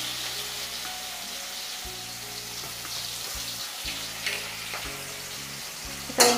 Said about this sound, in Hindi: 1 प्याज को बारीक चॉप कर लिया है, वो मैं इसमें ऐड कर दूँगी।